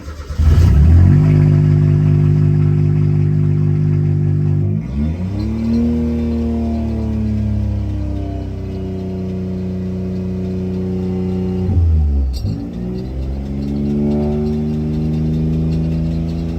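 A Suzuki Cappuccino raised on a lift revs its small engine while the speedometer is tested: loud, close, sustained engine drone that climbs and falls through two rev sweeps, running alone with no talk.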